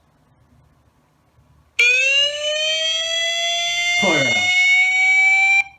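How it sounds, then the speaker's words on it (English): A COOAU 4MP HD outdoor security camera's alarm siren, triggered remotely, blares loud and steady with a sharp onset and continuous harsh tone, while a voice briefly speaks over it near the end. "So this alarm can be sounded off remotely by hitting the alarm icon"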